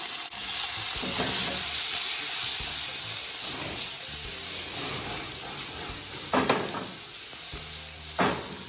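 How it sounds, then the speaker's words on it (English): Onions, thyme and tomatoes frying in oil in a pan for a Jamaican-style coconut milk sauce, a steady loud sizzle with occasional scraping stirs of a spoon, no talk. "So for the coconut milk, I'm cooking in the onions, the thyme, and the tomatoes."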